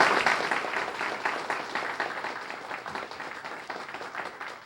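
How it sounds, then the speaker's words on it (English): An audience at a Student of the Month ceremony applauds students, a full, steady round of clapping that starts strong and slowly tapers over several seconds. "Let's have a nice round of applause for these students."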